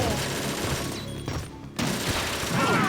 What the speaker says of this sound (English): firing stingers.